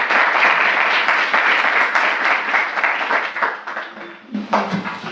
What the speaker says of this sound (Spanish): dándoles un gran aplauso